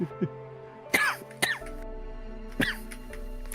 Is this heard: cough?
yes